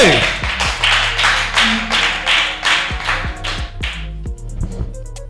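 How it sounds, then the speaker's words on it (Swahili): Clapping for an artist's degree announced during a studio interview, a run of steady handclaps with strong low background tones, the claps thinning out toward the end. "Makofi kwa ajili ya licencié."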